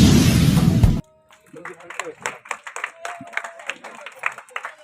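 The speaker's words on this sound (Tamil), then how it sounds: "எல்லோரும் கைத்தட்டும் மாதிரி கேட்கிறோம்" At a charitable trust inauguration ceremony, an audience claps after a loud opening burst cuts off, leaving moderate, uneven clapping from a modest crowd that carries on for several seconds.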